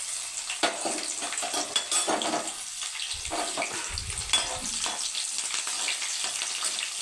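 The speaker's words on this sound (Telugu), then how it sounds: "ఉల్లిపాయలను, ఈ తాలింపుని, మనం వేసిన ఎండుమిర్చిని, వెల్లుల్లి రబ్బని మొత్తం వేపుకోవాలి చక్కగా" Steady, loud sizzling of onions, seasoning, dried red chillies and crushed garlic frying in a hot pan, with occasional scraping stirs and crackles throughout.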